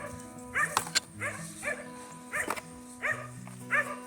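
Border collie barking in a backyard garden, a series of short sharp barks and yips in repeated bursts, moderately near over quiet outdoor background.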